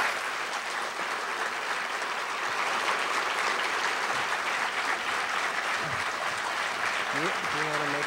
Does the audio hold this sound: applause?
yes